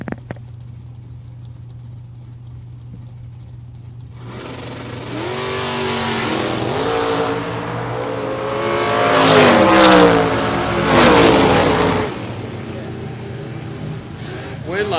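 At a drag strip, a Chevrolet S10 and a third-generation Camaro launch after a low idle, engines rising into loud, roaring revs that peak and fall through gear changes, with an announcer's voice over the racing.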